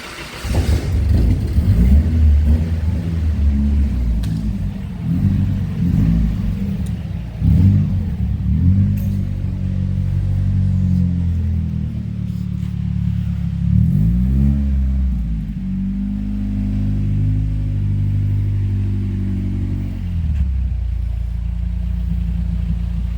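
A rebuilt Nissan 240SX drift car drives laps around a parking lot, its engine loud and close, revving up and easing off repeatedly with a steady low rumble between pulls.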